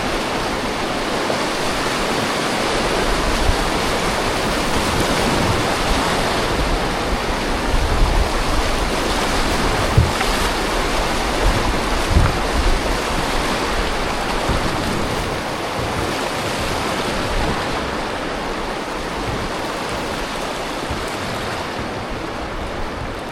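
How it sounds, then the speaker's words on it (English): Rapids on the Depaul River in the Labrador wilderness, a constant, loud, broad rushing roar of whitewater that holds steady throughout with no voices. "this is the last set of rapids on the Depaul River"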